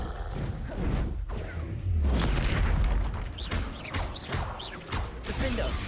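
Fiery Confringo blasts in the Hogwarts Legacy video game burst out as repeated booming explosions with whooshes and crashing impacts, loud and close, erupting irregularly amid layered combat effects.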